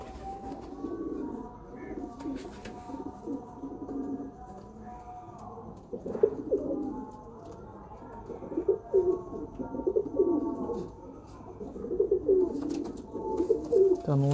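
Pigeons coo repeatedly in a loft at a pigeon breeder's, soft rolling calls overlapping steadily at close range, with faint rustling and occasional distant background noise.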